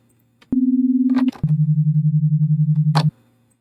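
Detuned FM sine Reese bass made in Sytrus, a Neurofunk drum and bass patch: two sustained, steadily pulsing low notes, a short one and then a longer lower one, with small clicks between, played alone.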